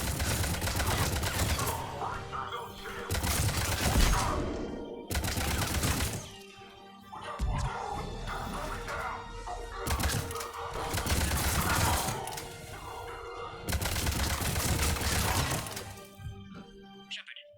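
Heavy gunfire erupts in bursts during a firefight in Mass Effect Legendary Edition, loud sustained volleys with cracks and shattering impacts separated by brief lulls, and voices calling out between the shots.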